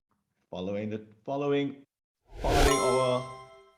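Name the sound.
bell ringing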